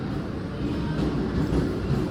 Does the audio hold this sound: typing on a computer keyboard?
no